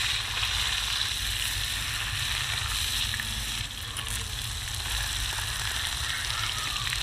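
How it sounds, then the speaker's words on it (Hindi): Fresh fish frying in hot oil, a loud continuous sizzle and crackle that holds steady from start to finish. "फ्राई कर रहा है"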